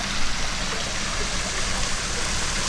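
Water from a waterfall pours into a hotel swimming pool at a Koh Chang resort in Thailand, a steady broadband splashing rush, close and constant with no talk.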